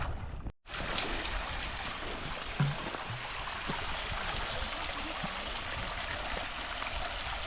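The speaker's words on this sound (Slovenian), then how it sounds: "1850 metrov še takole voda teče" Cold mountain spring water flows steadily at about 1850 metres altitude, a continuous close splashing rush after a brief cut near the start.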